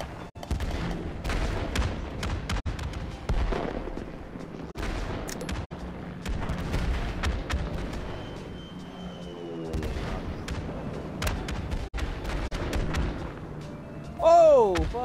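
Mortar fire in a first-person video game: repeated heavy thumps and booming impacts mixed with scattered gunshots, loud and close, with a whistling descending shell near the end.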